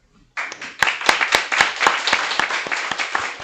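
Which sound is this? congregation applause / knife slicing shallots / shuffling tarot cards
congregation applause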